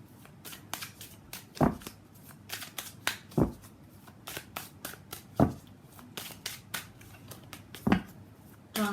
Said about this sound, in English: So let's pull some cards from universe.